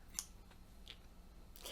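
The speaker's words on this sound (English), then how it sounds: "Scissors can cut hair." Scissors snip a few times, each cut a brief, faint, crisp click, spaced apart in a quiet room with no voices.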